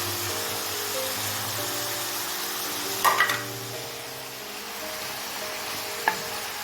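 Merguez sausage fries in a pan with a steady, close sizzle and hiss, broken by a sharp clatter around the middle and a lighter knock near the end; no voices.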